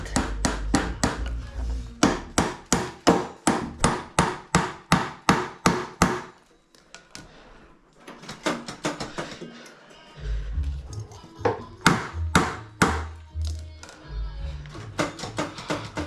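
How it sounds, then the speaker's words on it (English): A hammer drives a shim into a rack with a run of sharp, rhythmic wooden strikes, then a pause with a low rumble, then more irregular blows. "Then we hammer that shim down a bit."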